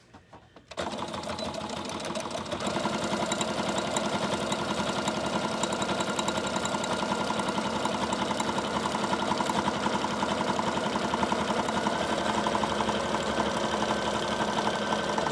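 A sewing machine stitches fabric for a junk journal, starting after a brief quiet moment and then running in a steady, fast, continuous whir close by for the rest of the time, with no voices.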